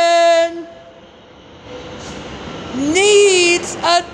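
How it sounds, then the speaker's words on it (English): An R160G subway train approaches Church Avenue station on the line to Coney Island, giving a steady rumble on worn track, with a loud rising horn or brake tone near the end. "R160G tram approaching here at Church Avenue going to Coney Island"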